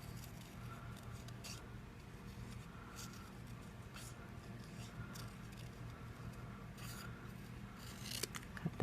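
Scissors snip through cardstock, cutting out leaf shapes for a greenery card, with a series of soft, faint close cuts spaced out over a quiet background.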